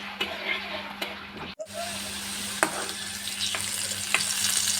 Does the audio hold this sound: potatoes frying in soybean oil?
yes